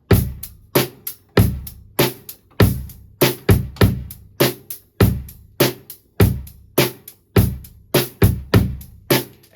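Drum kit playing a simple two-bar beat with steady kick and snare hits in a regular repeating rhythm, close and loud, the snare carrying a slight buzz, no talking.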